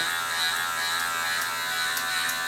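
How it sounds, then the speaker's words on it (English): An electric hair trimmer buzzes steadily and close up as it cuts hair, a constant high-pitched whine with no pauses and no voices. "The trimmer guard keeps coming off."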